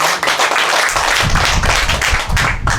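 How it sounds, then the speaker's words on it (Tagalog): A church congregation claps loudly together in praise, a dense, continuous burst of many hands filling the room for a few seconds with no voices on top. "Malakas ka na palakpak sa ating Panginoon."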